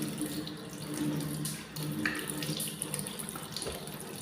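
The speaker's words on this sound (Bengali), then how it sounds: "এখন আমি মুখ ধুচ্ছি।" Tap water running steadily into a sink while someone washes their face, a continuous soft splashing hiss with small irregular splatters, fairly quiet and close.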